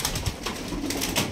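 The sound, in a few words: pigeons cooing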